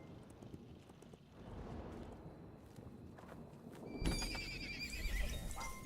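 A horse in the game Kingdom Eighties gives a bright, shrill whinny near the end, following earlier hoof clops and shuffling steps, fairly close and clear.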